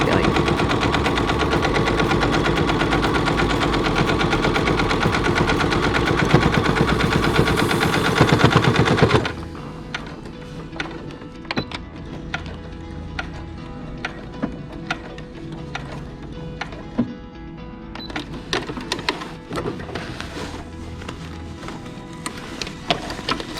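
A sewing machine stitches pockets onto a fabric apron, running in a loud, rapid, steady rattle for several seconds, then settling into short, scattered bursts of stitching with pauses between them.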